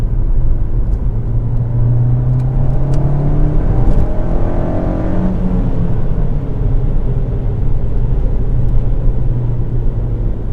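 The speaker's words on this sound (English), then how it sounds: "just going from 3rd then, from about 60 kilometers an hour, just up to 80 to get around that van, and it pulls nicely" Ford Fiesta ST with a Revo Stage 2 tune accelerating hard in third gear from about 60 to 80 km/h to overtake a van, a loud steady engine rumble with a rising tone heard from inside the car.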